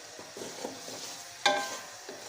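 Chicken pieces frying and browning in a karahi, a steady soft sizzle with stirring and scraping, and a sharper clatter of a utensil striking the pan partway through, no voices.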